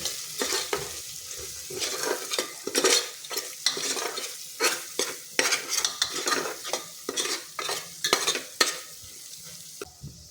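A utensil repeatedly scrapes and stirs garam masala into a green pigeon pea curry in a pan in quick rhythmic strokes over a soft sizzle, close and fairly loud.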